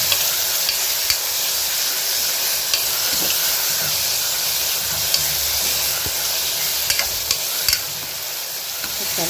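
Tomatoes sauté in a pan for beef gravy with a loud, constant sizzle close up, and a spoon scrapes and stirs now and then throughout.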